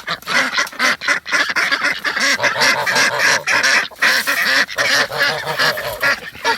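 Ducks quack loudly and continuously at close range as they come out in the morning, a dense chorus of overlapping calls with goose-like honks mixed in.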